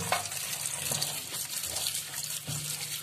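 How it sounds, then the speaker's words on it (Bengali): Steady running water pours over chow mein noodles being rinsed, a close, continuous splashing rush with small thumps as the noodles shift. "চাউমিনটাকে ভালো করে জল দিয়ে ধুয়ে নেব"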